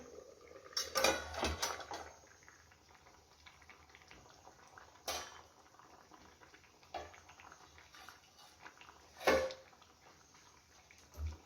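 A metal lid clanks and scrapes as it comes off a pot of simmering potato curry, a few sharp knocks of metal at close range against a soft, quiet bubbling, with no one speaking.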